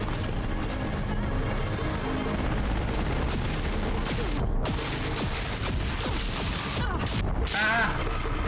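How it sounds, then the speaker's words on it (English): Missiles and gunfire strike the player in Horizon Zero Dawn, a dense, continuous barrage of explosive impacts and mechanical clatter that stays loud throughout. "What's hitting me? Your fucking missiles, that's what."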